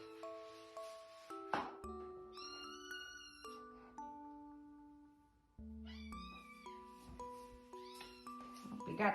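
Several kittens mewl and cry repeatedly in high, wavering calls, close by, overlapping one another with brief pauses between bursts.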